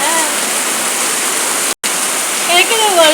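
Heavy rain water pouring down in a loud, steady rush close by, with a brief cut partway and a voice speaking over the downpour near the end.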